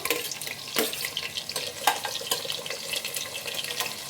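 Sliced onions crackle and fry in hot oil for chicken biryani, a steady busy sizzle with scattered sharp pops and clatters of stirring throughout, close by with no talking.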